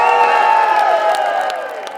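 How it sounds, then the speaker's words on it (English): A large crowd at a Scottish independence rally cheers and whoops loudly and continuously, a dense wash of voices with scattered shouts. "please go ahead, cheer yourselves"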